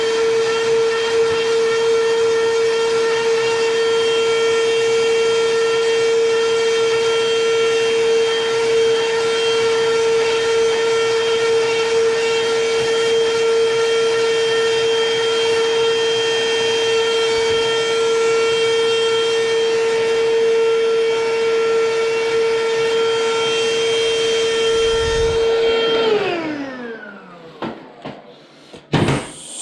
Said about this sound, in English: Let me grab my miniature handheld vacuum